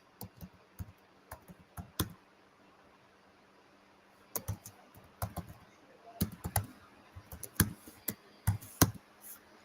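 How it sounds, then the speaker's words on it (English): Fast typing on a computer keyboard comes in quick bursts of close clicking keystrokes, separated by short pauses, over quiet background hiss. "Y'all know I'm typing fast"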